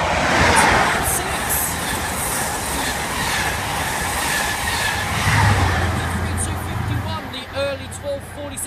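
Train rumbling through Peterborough station, a steady loud roar of wheels on rails with faint squeals and clicks toward the end, heard from the platform.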